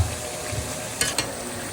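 Turnips and meat are stirred in a sizzling cooking pot, a steady frying hiss broken by two sharp scraping knocks of the spoon, with no talking.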